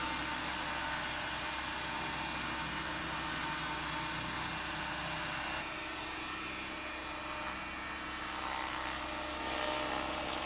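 A small AH-1 Cobra model helicopter's motor whines steadily, nearby and loud, its buzzing pitch shifting slightly as it revs toward lift-off.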